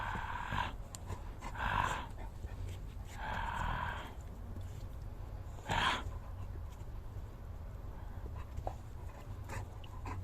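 A dog pants close by in a few heavy, breathy bursts spaced a second or two apart, then goes quieter, with no voices over it.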